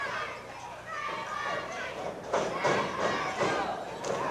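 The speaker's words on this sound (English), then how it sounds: "Crowd starting to chant, Junkyard Dog, Junkyard Dog." A wrestling crowd chanting "Junkyard Dog" in the arena, a loud rhythmic roar of many voices that swells and pulses behind the ring noise.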